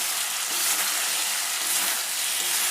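Potatoes and ridge gourd cook in ghee as the water reduces, giving a steady close sizzle with soft bubbling and no talk.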